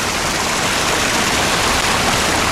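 Steady rain falls outdoors at night, a dense, even hiss that stays constant and close throughout, with no voices over it.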